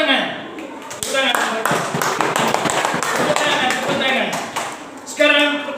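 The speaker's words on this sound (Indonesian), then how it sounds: "Oke, tepuk tangan" Children in a Catholic religious-education class break into lively, rhythmic clapping, a dense run of sharp claps with some voices underneath.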